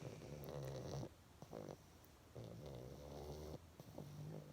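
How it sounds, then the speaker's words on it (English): A small pet snores while lying on a little pillow, in soft rhythmic rumbling breaths with brief quiet pauses between them, close and fairly faint. "He's not even sleeping and he was snoring."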